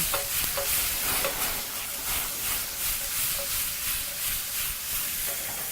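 Beef sears over very high heat in a tossed pan with a teaspoon of minced ginger, giving a steady, close sizzle with soft scraping swells as the pan moves; no one speaks.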